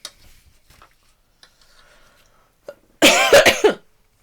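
A woman coughs near the end of a quiet stretch, a short cluster of three or four harsh, close coughs following faint rustles and taps.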